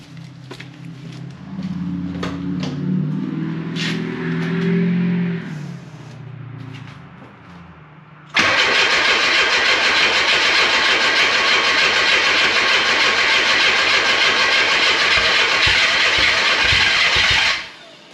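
Mk2 Jetta with a homemade unmuffled exhaust cranking over in very cold weather, sputtering unevenly for several seconds, then giving way to a loud, harsh, steady roar that cuts off abruptly.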